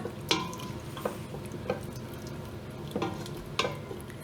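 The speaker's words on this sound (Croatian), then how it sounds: "I to sad nek polako se dinsta." A pot of food stews with stock in a traditional Croatian country kitchen, giving a steady low sizzle and bubbling broken by a few sharp clinks and stirring scrapes.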